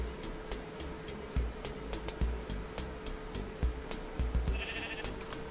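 Sheep in Minecraft bleat repeatedly in short, evenly spaced calls over a steady background hum, fairly clear and close.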